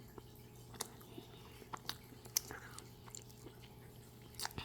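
Someone chews and bites into a hamburger-shaped ice cream with bun and cheese, producing soft, intermittent squishy mouth sounds up close against a quiet background with a low steady hum.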